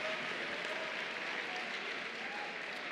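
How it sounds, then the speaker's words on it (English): Audience applause at a big wave surfing awards ceremony, a steady, dense clapping from a large indoor crowd that holds evenly throughout without pause. "So a round of applause for that man."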